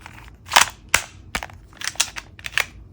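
A Tokyo Marui M92SB cap gun firing caps: about six sharp, loud pops spaced irregularly with brief mechanical clicks between shots, close to the listener and with no talk.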